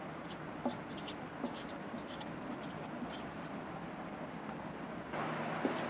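A marker writing on a board during a calculus lesson, with faint repeated squeaks and short strokes under a steady background hiss, and a voice speaking at times.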